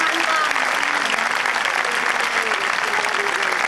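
An audience gives loud, sustained applause at a 2014 tribute event in Benidorm, dense clapping that fills the whole stretch without a break, with a voice faintly audible underneath.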